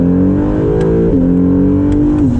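A 2017 Acura NSX engine hums and rises in pitch while driving, with smooth revs and two clear gear-change dips, loud and close from inside the cabin.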